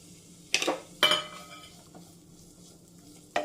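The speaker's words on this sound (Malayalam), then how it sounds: "എണ്ണ ചൂടായി വന്നിട്ടുണ്ട് ഈ സമയത്ത് നമുക്ക് സവാള ഇട്ട് കൊടുക്കാം" Sliced onion going into hot coconut oil in a home kitchen, heard as two sharp bursts of sizzle and clatter followed by a quieter crackle, then a third burst near the end; no talk.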